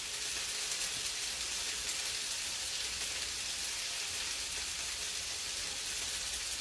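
Vegetables sizzling steadily in a hot cast iron skillet, a dense, even hiss and crackle of frying that holds constant and close throughout, with no talking.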